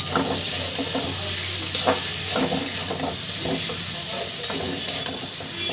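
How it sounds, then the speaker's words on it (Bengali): Fried vegetables being stirred into oily spice masala in a pan for a Bengali fish curry, with a steady loud sizzle and repeated scraping stirs throughout, no talking. "ভেজে রাখা সবজিটা দিয়ে আমি সুন্দর করে কষে নিই"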